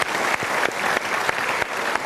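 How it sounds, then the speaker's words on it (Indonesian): A seated audience at a motivational talk show gives a short burst of dense, steady applause, loud and close, lasting about two seconds. "Kita berikan tepuk tangan"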